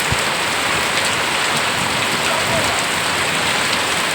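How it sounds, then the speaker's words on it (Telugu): Heavy rain pours down steadily in Andhra, a dense, loud, unbroken hiss of water striking surfaces with no pauses. "ఆ వర్షం చూడండి ఎంత పెద్దగా"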